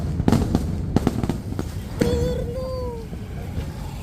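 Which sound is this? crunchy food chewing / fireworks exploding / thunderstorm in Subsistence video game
fireworks exploding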